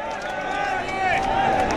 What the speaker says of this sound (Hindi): जोरदार तालियों के साथ जब वो मंच पर रहे तो स्वागत करें।